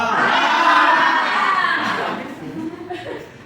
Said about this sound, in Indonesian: Berteriak.